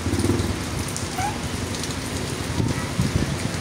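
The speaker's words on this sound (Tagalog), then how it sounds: "Lakas ang ulan." Heavy rain pouring down outside a home kitchen, a steady dense hiss of drops drumming on surfaces, moderately faint and continuous with no talk.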